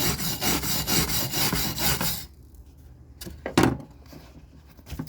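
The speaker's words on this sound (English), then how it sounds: "So I'm going to clean off this weld real quick." A weld bead is scrubbed by hand with a rasping, abrasive stroke, loud and steady for about two seconds, then quieter scattered scrapes and a sharp knock follow.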